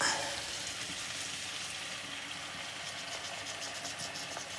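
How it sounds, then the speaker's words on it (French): Water poured into a hot pan of reducing vinegar sets off a steady, dense sizzle and hiss that holds evenly for several seconds, close and fairly quiet, with no talk over it. "je vais mouiller avec un peu d'eau"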